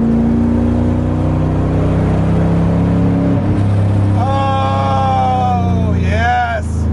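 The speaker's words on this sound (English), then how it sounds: "is a Lingenfelter prepped LS3 breathing through a stack of 8." A Lingenfelter-prepped LS3 V8 breathing through eight-stack injection in a Corvette Grand Sport rumbles steadily and loudly, rising toward revs near the end, while someone talks over it.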